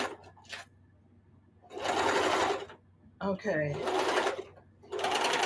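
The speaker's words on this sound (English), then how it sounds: "I'm back stitching just to thwart this machine." Domestic sewing machine stitching together random quilt scraps, several loud close bursts of rapid whirring stitching broken by pauses, with a person speaking briefly between runs.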